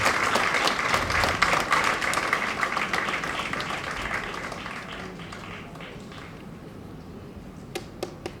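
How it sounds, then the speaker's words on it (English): Audience applause welcoming the executive secretary of the Ghana Anti-Corruption Coalition at a panel dialogue on political financing, dense steady clapping that gradually thins and fades, ending in a few scattered final claps. "Let's welcome her with a round of applause."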